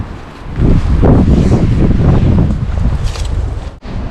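Strong wind gusting on a sunny day outdoors in a garden, a loud continuous roaring buffet against the microphone that swells and dips and briefly cuts out near the end.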